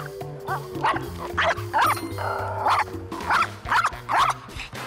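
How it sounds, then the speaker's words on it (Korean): A dog named Jackson barks repeatedly at other dogs during a walk, sharp bow-wow barks and yips in quick irregular bursts, close and loud over a steady low background hum. "또다시 짖기 시작하는데요."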